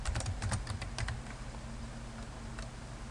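A computer keyboard clicks in a quick burst of keystrokes as a date is typed, then slows to a few scattered taps, close and fairly quiet.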